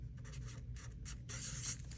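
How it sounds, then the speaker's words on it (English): Pen scratching the number 34 onto paper, a few short close strokes in quick succession, quiet and alone. "write 34 on here"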